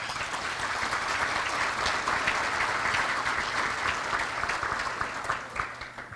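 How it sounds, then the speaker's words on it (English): An audience at a leadership awards event applauds: a dense, even wash of many hands clapping that is sustained for several seconds and fades slightly at the end. "Let's give him a round of applause."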